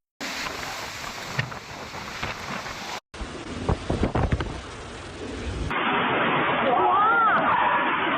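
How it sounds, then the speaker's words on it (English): Strong typhoon wind roaring through streets of Wenchang, Hainan, where coconut trees are being blown down; loud, continuous gusting with wind buffeting the microphone, cut into several abrupt segments. "This video shows scenes of coconut trees being blown down by the typhoon on the streets of Wenchang, Hainan."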